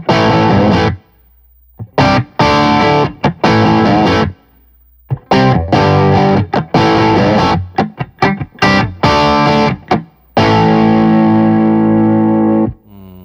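A James Tyler USA Studio Elite HD electric guitar plays heavily distorted chords and riffs in loud bursts with short silent gaps, ending on a long ringing chord, with no talking.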